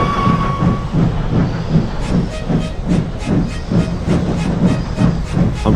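Steam locomotive rolling off from a station, a steady rhythmic chuff and clatter of wheels on rails with a hiss of steam, fairly close and continuous throughout.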